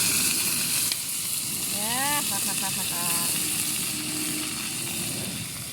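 Chicken heads frying in a curry pot over a gas flame give a steady loud sizzle and hiss, with brief chirps from birds and someone speaking faintly beneath the frying.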